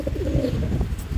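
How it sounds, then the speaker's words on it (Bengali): Red-bordered Jalali pigeons at a pigeon farm coo in a steady, close, throaty murmur that fills the whole short stretch, with no voices over it. "এখানে লাল বর্ডার কবুতর কিন্তু অনেক খুব ভালো ডাকাডাকি করছে।"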